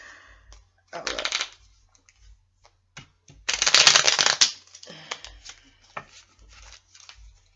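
Tarot cards being shuffled by hand, several short papery riffling bursts with one longer shuffle in the middle, close and fairly crisp against a quiet background.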